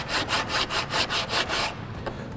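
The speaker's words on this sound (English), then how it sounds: "you might have noticed as I was sanding" Steady back-and-forth rasping of sandpaper on a wooden door surface, about a dozen rhythmic strokes close by, then stopping abruptly with quiet handling noise.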